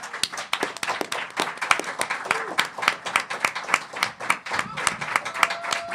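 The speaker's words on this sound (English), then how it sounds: "Big round of applause, guys." A crowd at the Valiant Summit 2016 claps in lively applause for people on stage, many sharp overlapping claps at a steady pace, with a few voices underneath.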